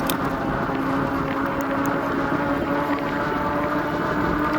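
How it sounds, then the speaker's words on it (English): Aggressive-tread e-bike tires roll on a road at about 18 mph under pedal assist, giving a loud, steady rushing hum mixed with wind noise, continuous from start to finish with no talking. "my tires sound like I'm going 50. That's because they're slightly aggressive"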